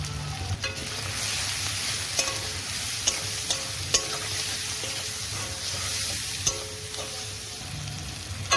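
Turmeric and spices fry in oil with onions, making a steady crackling sizzle with repeated sharp metallic clicks and scrapes from stirring, and no talking.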